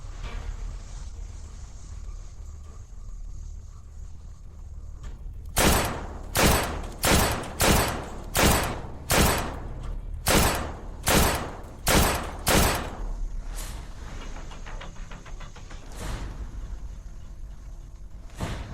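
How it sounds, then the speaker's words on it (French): Ten rapid gunshots fired at a target, loud sharp reports in an even, fast sequence standing out over a steady low background rumble, with a fainter shot or two trailing after. "Toutes ont touché. 10 balles en plein dans le mille."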